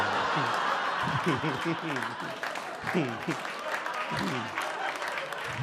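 A stand-up comedy crowd at a Norm Macdonald set claps steadily throughout, mixed with chuckles, scattered laughter and murmuring voices.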